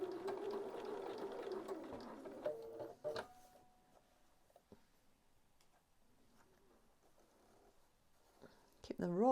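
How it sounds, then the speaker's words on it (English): A sewing machine stitches bias binding along the edge of a facing in short, soft running bursts with ticking, mostly quiet, while a person talks over the first few seconds. "And I'm just going to sew this along now."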